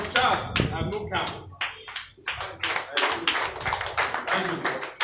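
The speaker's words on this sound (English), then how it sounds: "Give me a round of applause." Audience claps at a political campaign event while a voice talks and calls out over the noise, the clapping coming in uneven, sharp bursts that swell and dip for several seconds.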